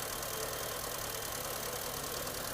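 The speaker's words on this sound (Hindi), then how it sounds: "इसका जो इंजन है इसका जो नॉइज़ है काफ़ी लाइट वेट है" A Honda Amaze car engine idles quietly and steadily, a smooth, even low hum that runs unbroken and close by, with no voices.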